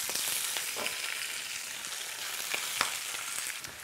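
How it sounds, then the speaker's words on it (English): Bok choy frying in a hot pan, a loud, dense, continuous sizzle with scattered crackles and pops throughout. "we're just going to pop that in straight into our hot pan"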